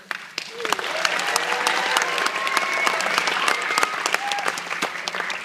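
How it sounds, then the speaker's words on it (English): A school audience gives a big, loud round of applause for a senior student, dense continuous clapping with faint voices and whoops mixed in throughout. "So I'd like to give a big round of applause to Garrett."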